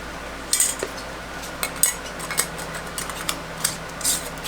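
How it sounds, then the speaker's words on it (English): Metal lids and rings go onto glass canning jars of summer squash in a run of light, irregular clinks and scrapes of metal on glass, close and fairly quiet. "Let's get our lids and rings on."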